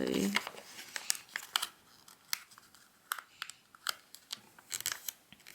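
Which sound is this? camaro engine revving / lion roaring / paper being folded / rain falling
paper being folded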